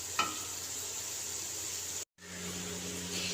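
Bitter gourd pieces frying in hot oil, a steady close hiss of sizzling with a brief knock near the start and a momentary cut near the middle, no voices.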